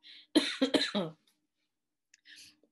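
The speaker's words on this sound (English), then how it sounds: "I'm getting a cough." A short burst of three or four harsh coughs close by, followed by quiet breaths and a faint throat sound.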